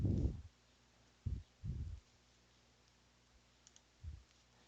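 A few soft, close mouse clicks while working in Onshape CAD software, spaced irregularly across a quiet room with long pauses between them.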